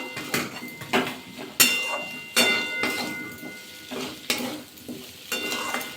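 A spoon stirs a fried spice mix for pea kachori filling in a pan, rhythmic scraping strokes about once a second over a soft sizzle, with light metallic clinks, close and alone.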